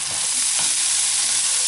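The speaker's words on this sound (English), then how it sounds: "Give that a little stir." Courgettes with amba spice are stirred in a hot frying pan, a loud continuous sizzle with soft scraping of the spoon through the vegetables, close up and without voices.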